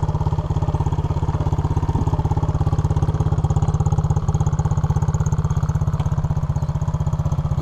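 An SSR 110cc dirt bike engine runs steadily at low throttle, a close, loud, even putter with a rapid regular pulse and mechanical clatter, holding the same pace throughout without voices.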